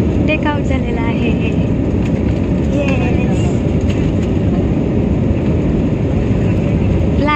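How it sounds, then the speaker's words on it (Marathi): An airplane takes off with a heavy, steady low engine roar that fills the whole stretch, while people talk over it. "अशा प्रकारे आता आपला विमान टेक आउट झालेला आहे."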